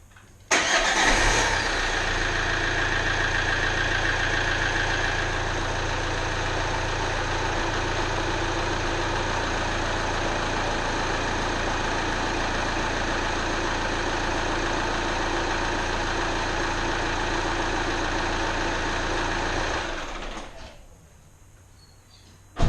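A Vauxhall 1.9 CDTI Z19DTH diesel engine starts and runs at a steady, close idle for about twenty seconds with a constant low drone, then shuts off into quiet.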